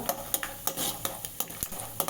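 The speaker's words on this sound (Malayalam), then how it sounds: "നമുക്ക് വറുത്തെടുക്കാം കേട്ടോ" Food fries in a pan for breakfast under an even sizzle, broken by quick regular scrapes and taps of a utensil against the pan, roughly three each second.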